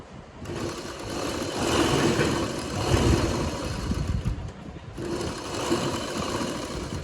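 A sewing machine runs a side seam on a salwar, with two sustained bursts of close, steady motor whirring and needle clatter separated by a brief pause.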